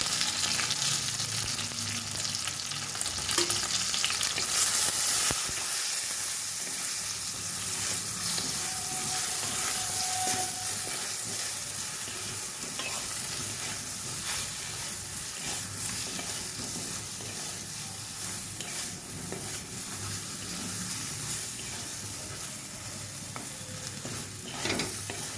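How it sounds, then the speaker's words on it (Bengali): Eggplant pieces seasoned with salt and turmeric fry in oil with a continuous, close, even sizzle and crackle that holds steady for the whole stretch, with no voices. "বেগুনগুলো ভাজা হয়ে গেছে, বেগুনগুলো তুলে দেবো।"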